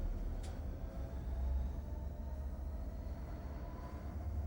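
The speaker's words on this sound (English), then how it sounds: "There's a Freightliner going through." A Freightliner freight train passes on a UK line, a low continuous rumble of rolling wagons heard from a distance at modest volume, steady throughout with no talk.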